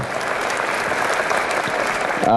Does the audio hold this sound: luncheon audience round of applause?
yes